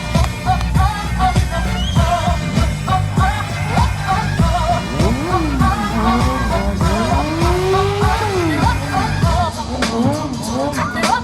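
Sarah Lezito drifting her stunt motorcycle at a stunt show in Valence: loud engine revs rise and fall in sweeps, with tire squeal and skidding over steady background noise and a voice talking throughout.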